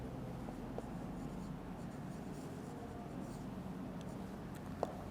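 Chalk or marker writing on a board during an English lecture, faint scratchy strokes in short bursts over a quiet room hum, with a couple of soft taps.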